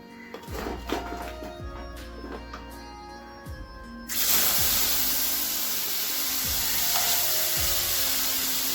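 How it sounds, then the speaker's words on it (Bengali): Clatter and scraping in a pan, then a loud burst of hissing sizzle as fish hits hot oil, continuing steadily and close. "এখন মাছটাকে হালকা ভেজে তুলে নেব"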